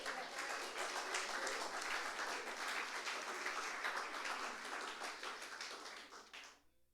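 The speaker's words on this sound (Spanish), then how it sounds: "Démosles palmas al Señor." A church congregation claps together at a Sunday service in dense, steady applause that holds for several seconds, then tapers off and stops near the end.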